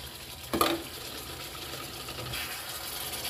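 Chicken masala stirred and fried in oil in a pot, giving a soft steady sizzle broken by one brief scrape of a utensil near the start; quiet, with no talking.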